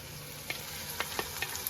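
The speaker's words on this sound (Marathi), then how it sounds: "आता तडका देते" Spices sizzle steadily in hot oil for a tempering for mutton soup, a constant crackling hiss punctuated by a few sharp pops and clicks.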